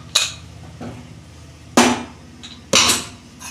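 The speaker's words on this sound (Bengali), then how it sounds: "দেখুন বন্ধুরা, আমি ঢাকনা খুলছি।" Lid of a pressure cooker being opened after four whistles, with boiled chickpeas inside for chana paneer: three loud, sharp metallic clanks spaced apart, each ringing briefly, with no talking.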